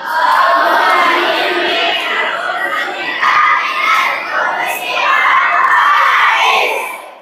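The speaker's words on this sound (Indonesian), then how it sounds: "Kenapa selalu orang santriwati dia berteriak begitu?" Female students at an Islamic boarding school shout together in a loud sustained crowd roar of high young voices, swelling and dipping for several seconds.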